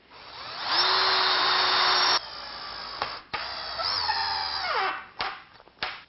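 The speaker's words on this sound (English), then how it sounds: "Before you drill your hole, check and make sure the backsplash is even." A power drill bores into a laminate countertop backsplash with a steady high whine that runs for about a second and a half, then several shorter bursts and a winding-down spin follow, close and alone.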